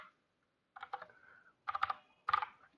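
Keys clack on a computer keyboard while Python code is typed, in short bursts of clicks separated by pauses, close and fairly quiet, with no talking.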